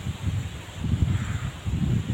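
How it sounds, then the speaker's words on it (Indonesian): Strong wind gusting through a rural village before rain, a steady, dense roar with low rumbling buffets that swell and ease, loud and close with no voices. "Wah, tos gede kieu angin."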